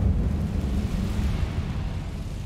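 A deep, rumbling burst of fire from the Incendio spell in Hogwarts Legacy, heavy and close, roaring steadily for a couple of seconds with a low, explosive body.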